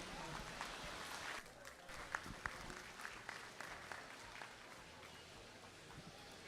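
Spectators at a youth goat show in the county livestock arena clap through a round of applause that swells and then fades. A few sharper individual claps stand out against a faint, distant crowd.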